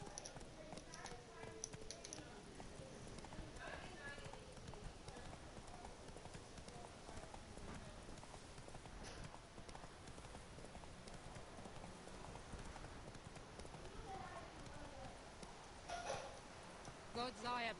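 Horse hooves in The Witcher 3: Wild Hunt video game: a steady, faint clip-clop of walking hooves that runs throughout, with voices heard at times.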